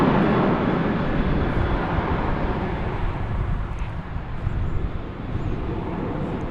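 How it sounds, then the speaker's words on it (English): A Spirit Airlines plane in the old birthday-cake livery taking off at DFW Airport on a hot day, a loud, continuous low engine roar with a broad hiss that stays strong and slowly eases, no talk. "Let's see our first takeoff here. It's going to be an old-fashioned Spirit logo,"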